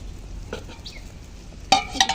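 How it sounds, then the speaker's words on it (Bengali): A curry simmering in a pot on a brick stove gets stirred. A few soft scrapes come early, then a louder, brighter clatter of spoon against pot near the end, over a low bubbling background. "তরকারি খুব সুন্দর ফুটতে শুরু করেছে, এখন আমি একটু নেড়ে ছেড়ে ঢাকা দিয়ে দেবো"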